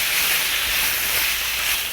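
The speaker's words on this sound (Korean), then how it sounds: "이렇게 절반 정도 익을 때까지 살짝 볶아주실게요." Pork and vegetables stir-fry in a hot pan for spicy pork bulgogi, giving off a dense, steady sizzle and hiss that stays loud and even throughout, with no talk over it.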